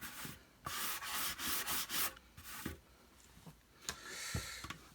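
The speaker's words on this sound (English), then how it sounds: "is this very, very fine sandpaper" Plastic rubbed with very fine sandpaper in quick, close, scratchy strokes, several short bursts with brief pauses between, faint overall and without speech.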